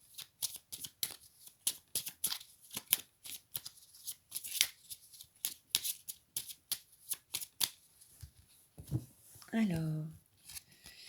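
Tarot cards are shuffled in quick bursts of crisp riffling and slapping, then a single card is drawn, and someone speaks briefly near the end.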